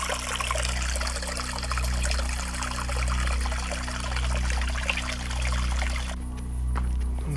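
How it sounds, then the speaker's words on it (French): A small stream near the ruined village of Rochecolombe trickles and burbles steadily at close range, with a low hum pulsing beneath, before the water noise drops away abruptly near the end. "Le mini cours responsable du bruit de l'eau qu'on entend tout à l'heure."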